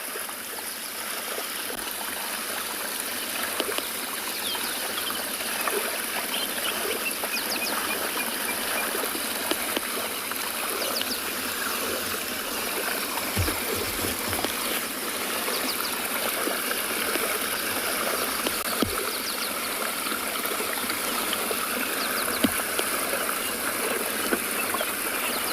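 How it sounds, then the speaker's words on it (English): Water pours steadily over a river spillway while small waves lap against the bank, a continuous near wash of flowing water with no voices. "listen to the waves lapping up against the bank here and the water flowing over the spillway"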